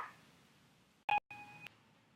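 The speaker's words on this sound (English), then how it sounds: "sorry about that beeping noise at the beginning" Electronic beeps near the start of a home weather-display setup pairing a cloud-shaped light with a phone: two clear tonal bleeps, a short loud one then a longer steady one, in a quiet room with no talk.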